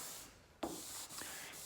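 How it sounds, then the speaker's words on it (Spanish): Car paint on a Fiat Siena being hand-sanded to correct orange-peel texture, with strokes running in the opposite direction; a soft, steady rubbing hiss, quiet and close, broken by a few sharper scrapes. "ahora estoy lijando en el sentido opuesto"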